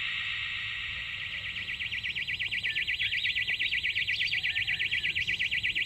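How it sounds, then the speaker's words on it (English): A loud warbling security alarm wails in an abandoned mansion, its rising and falling siren tone growing stronger and pulsing in a steady rhythm, with no talk. "we weren't as cautious when we crawled past the staircase alarm"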